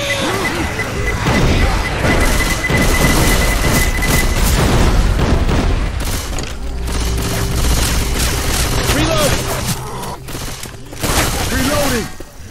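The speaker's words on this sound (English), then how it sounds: "Pipe bomb out." Chaotic combat in Left 4 Dead 2 with a pipe bomb blast: loud booms, crashes and rapid gunfire pile up densely, followed by a heavy explosive rumble and scattered impacts, with voices calling out beneath.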